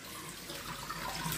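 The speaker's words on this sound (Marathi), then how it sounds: "चला माझं पाणी भरायचंय. पाणी आलंय." Water runs from a tap while a container fills, a soft continuous splashing stream, faint and brief, with no talk over it.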